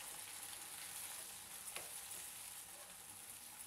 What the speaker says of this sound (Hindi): अब हम इसमें ये पिसा हुआ टमाटर वाला मसाला डालेंगे और इसे भी इस तरह से चलाते हुए अच्छे से भून लेंगे